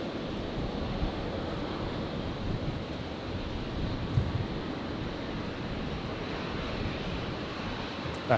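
Jetstar Airbus A321neo jet in new livery taxiing out for a runway 01 right departure at Brisbane Airport, a steady distant engine rumble with wind noise, continuous and even throughout.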